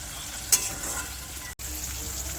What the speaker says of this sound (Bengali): টমেটো কুচির সঙ্গে পেঁয়াজের সঙ্গে একটু ভেজে নেবে